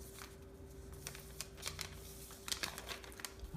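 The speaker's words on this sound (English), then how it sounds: "this crease, and fold it down to the bottom." Origami paper being folded and creased by hand, giving soft, scattered crinkles and light taps over a steady low hum, with several small rustling bursts close to the mic.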